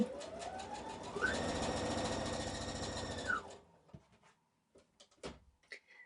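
A sewing machine chain piecing fabric with a quarter-inch seam, speeding up into a fast, loud, steady whirring stitch for about two seconds, then stopping, followed by a few soft clicks and handling knocks.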